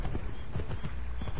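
Horse hooves clip-clop in a steady, quick rhythm as a horse moves through a forest in the Assassin's Creed 3 game, close and fairly loud, with faint game ambience underneath.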